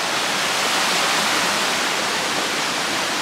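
A waterfall along the Mount Buko trail in Chichibu gives a steady, dense rushing roar that stays even and unbroken for a few seconds.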